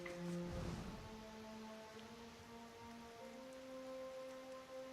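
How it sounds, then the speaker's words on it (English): Steady rain falls in the fantasy game Pillars of Eternity, a soft continuous patter of drops at an even level, with a brief thud near the start and a low tonal hum underneath. "the rain is still here"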